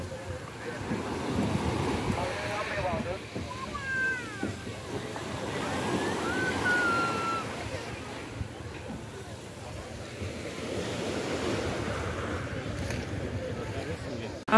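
Sea waves wash at a hotel beach in Turkey, with a steady surf and wind noise rumbling close to the microphone under indistinct voices and a brief high call.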